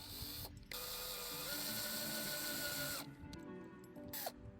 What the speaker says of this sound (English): So we're gonna have to take our drill and make a good hole.